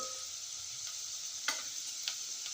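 Ginger garlic paste with turmeric fries softly in a pan, making a steady faint sizzle, with a couple of light clicks from stirring.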